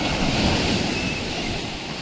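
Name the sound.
large ocean waves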